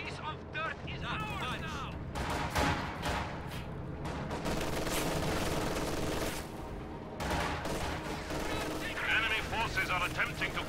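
Video game battle with an Su-76 self-propelled gun and an MG42 machine gun firing, dense bursts of gunfire and heavy booms packed together over a rumbling background, loud and continuous.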